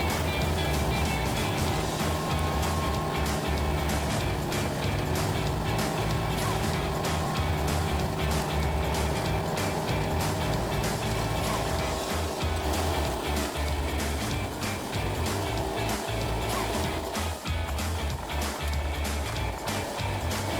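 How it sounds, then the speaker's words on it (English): A Derette XC1100 mini skid steer runs a tiller attachment through soil, producing a dense, continuous mechanical churning and engine drone that stays loud and steady throughout, with some voices mixed in. "We've swapped to the tiller."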